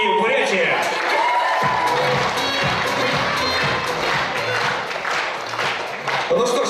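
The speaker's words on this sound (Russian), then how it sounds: "И громкие аплодисменты молодежному центру Республики Бурятия." A school KVN comedy league audience fills a hall with loud, continuous applause and cheering that swells and holds throughout, with crowd voices mixed in.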